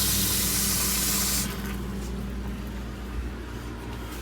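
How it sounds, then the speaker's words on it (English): Kitchen sink faucet in a 2024 Aspen Trail 260THLOFT RV runs with a steady close rush of water that drops to a softer, quieter flow partway through, with no talk. "we'll run our sinks, hot and cool"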